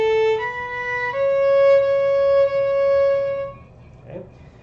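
A violin bowed in a beginner lesson plays the opening of Mary Had a Little Lamb, a few sustained, clear notes stepping down and holding, then fading to quiet with a faint knock at the end.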